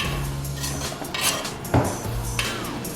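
A spoon stirs rice and broth in a cooking pot for carrot rice. It gives a few close metallic scrapes and clinks against the pot with one sharper knock near the middle, over a low background hum.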